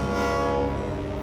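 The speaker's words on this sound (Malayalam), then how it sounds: "നോക്ക്, ട്രെയിൻ വരുന്നുണ്ട്." A cartoon train blares a long, loud, steady horn as it approaches, with rail rumble beneath.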